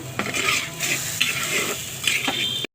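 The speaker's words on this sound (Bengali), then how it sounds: "এভাবে আমি মশলাটা কষাতে থাকবো।" Spice paste (masala) being stir-fried in a pan in a home kitchen, a steady sizzle broken by rhythmic scraping and stirring strokes of a spoon against the pan, fairly close and loud, with no voices.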